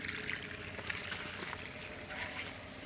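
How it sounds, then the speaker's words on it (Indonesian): Steady, soft gurgling and trickling of water siphoned through a narrow hose from a catfish fry pond, continuous and fairly quiet with no voices. "air mengalir."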